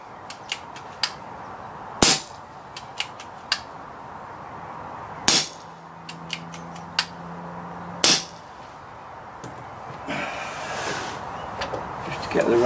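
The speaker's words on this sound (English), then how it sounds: "So I'm going to fire a few" Air rifle firing dry shots after a fresh fill, three sharp loud cracks spaced a few seconds apart, mixed with smaller clicks and handling knocks and a hissing rush near the end.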